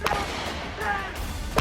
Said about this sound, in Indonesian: Baku tembak tak terhindarkan.